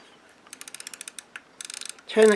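The film advance knob on a 1950s Zeiss Ikon 35mm folding camera is wound, making two close bursts of rapid, evenly spaced ratchet clicks, each a short run of sharp ticks, followed by a brief louder rustle.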